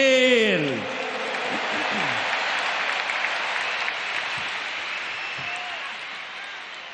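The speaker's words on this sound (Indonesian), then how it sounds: "Tepuk tangan dulu yang meriah untuk Gus Muhaimin." Large crowd at a final mass campaign rally for Indonesia's 2024 election applauds loudly and steadily, a broad wash of clapping and cheering that swells after a speaker's voice at the start.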